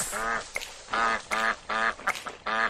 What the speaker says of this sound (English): She saw four ducks, ducks, ducks, and they said quack, quack, quack.